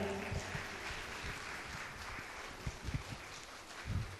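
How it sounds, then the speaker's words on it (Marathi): Applause for the first contestant at a Christian song competition rises as a faint, soft patter of clapping, steady and somewhat distant, with a few louder claps near the end. "तिच्यासाठी आपण टाळ्या वाजवूया"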